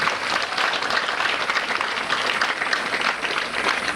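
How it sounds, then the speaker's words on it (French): An audience at a health campaign launch event in Senegal claps in a continuous, dense burst of applause, evenly sustained from start to finish. "vous demander une salve d'applaudissements à l'endroit de ces bienfaiteurs de l'école sénégalaise"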